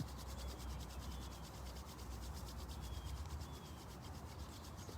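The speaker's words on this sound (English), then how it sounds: "You can start rubbing the palms together, activating those palm centers and chakras." Palms rubbing together in steady, continuous dry friction, quiet and close, outdoors on an open field during a yoga session, with no talking.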